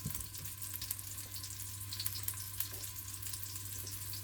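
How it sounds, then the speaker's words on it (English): Meatballs browning in a pan with about a tablespoon of oil give off a steady, soft sizzle and crackle. The sound stays fairly even throughout, a low hum runs beneath it, and no voices are present. "just to start browning up the meatballs"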